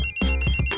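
A phone rings briefly and loudly, a short burst of tones cut off within a second.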